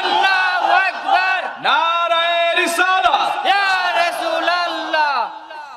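A crowd at a Bengali Islamic sermon chants the takbir, Allahu Akbar, together. Many voices roar loudly and close in repeated, drawn-out unison shouts that rise and fall in waves.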